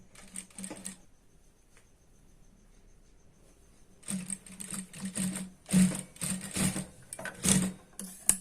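Sewing machine stitching the corners of a dhoti salwar, short bursts of rapid, near whirring stitching that start and stop repeatedly after a quiet stretch.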